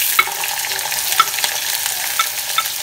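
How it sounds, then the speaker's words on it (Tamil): Onions sauté in a pan over a mustard seed tempering for a dried fish curry, with a constant close sizzle and a spatula scraping the pan roughly once a second. "போட்டு நல்லா வதக்கி கொஞ்சம் நல்லா வெங்காயம் வந்து கொஞ்சம் நல்லா ப்ரௌனாக வர வரைக்கும் வதக்கலாம்"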